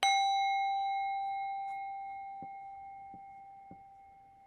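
A meditation bell is struck once during a prayer vigil and rings out clearly, its bright tone slowly decaying over several seconds with faint soft taps in the quiet room.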